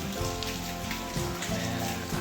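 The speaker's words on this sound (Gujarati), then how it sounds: "વરસાદ પડે જોરદાર, છત્રી ઊંધી થઈ ગઈ છે કાગડા જેવી।" Heavy rain pours down steadily, a dense continuous hiss of drops striking surfaces, loud and unbroken throughout with a low hum underneath.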